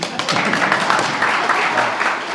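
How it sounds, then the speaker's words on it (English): An audience applauds at a police recruit graduation ceremony for the 131st class, a dense, loud wash of clapping that holds steady throughout with no speech over it. "You can applaud for me, that's okay."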